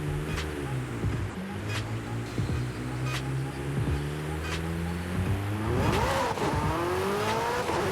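A McLaren 765LT sports car with a 1170 hp engine accelerates along a straight road, its engine note droning steadily and then climbing sharply in pitch as revs build near the end, heard close and alone.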